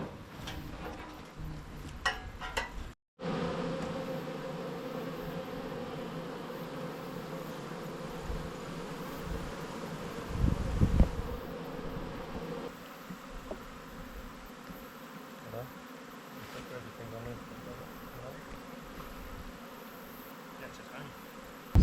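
Honeybees swarm around an open hive at an apiary in the Marlborough Sounds while frames of honey are handled. Their buzzing is a steady, close hum that runs throughout, with a brief dropout and a few handling knocks.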